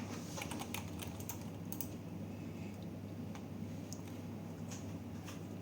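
Rapid, irregular clicking of a computer keyboard as an address is typed, close and fairly quiet over a steady low room hum, with no speech.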